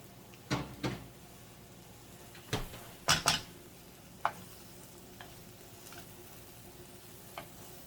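A spoon stirs shredded cheddar into a breakfast hand pie filling in a pan, with scattered scraping knocks and clacks of utensil against cookware over a faint steady background.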